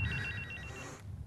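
A home telephone rings with a bright electronic trill that stops abruptly partway through, heard in a quiet room.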